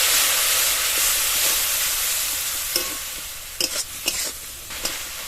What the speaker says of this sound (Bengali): অল্প একটু জল দিয়ে দেবো, মশলাটা কষিয়ে নেব।